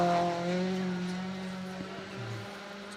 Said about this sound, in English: in the Honda Civic, high revving up the hill here into the last third of this Gail Rig stage